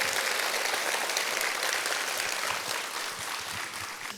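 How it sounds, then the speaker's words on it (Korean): A lecture audience at a Korean arts university book concert claps warmly, a dense, even wash of applause from many hands that holds steady and eases slightly toward the end. "큰 박수 부탁드리겠습니다"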